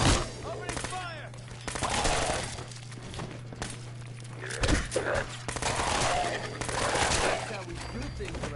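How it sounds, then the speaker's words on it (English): Bursts of rapid gunfire from the game Fallout 4 crack out repeatedly in close, loud volleys, mixed with other game effects and a steady hum. "Opening fire!"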